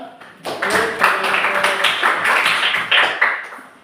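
A classroom group in Indonesia claps hands together after a group presentation, a dense burst of close clapping that starts abruptly, holds steady with several stronger surges, and continues for a few seconds.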